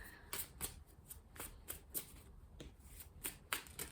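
A deck of tarot cards is shuffled by hand, quiet close riffles and snaps repeating in a steady rhythm of about two per second, with no talking.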